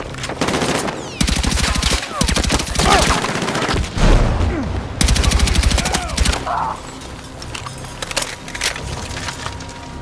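Rapid automatic gunfire and heavy shotgun blasts fill a Battlefield 6 firefight, dense overlapping volleys that ease off toward the end, loud and close.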